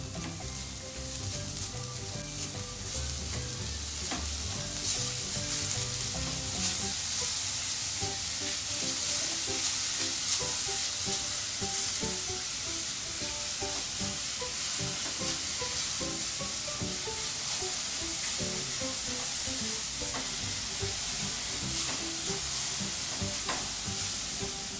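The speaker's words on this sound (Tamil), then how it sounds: "இப்போது இதில் வந்து கொஞ்சமாக சர்க்கரை சேர்த்து கொஞ்சம் கேரட்டோட வதக்குனா கொஞ்சம் சர்க்கரை கேரமைல் ஆகும்" Carrots sauté with sugar in a pan and caramelise for carrot kheer, giving a continuous dense sizzle with scattered stirring scrapes throughout, close and unbroken.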